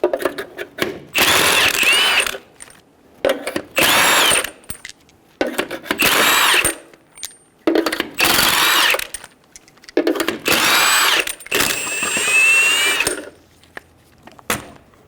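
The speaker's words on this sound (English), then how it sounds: "Using a 21mm socket, remove the 6 lug nuts." Several bursts from an impact wrench with a 21mm socket removing six lug nuts from a 2005-2010 Toyota Tacoma front wheel, each lasting about a second and separated by short pauses. They are loud and close, with no talking.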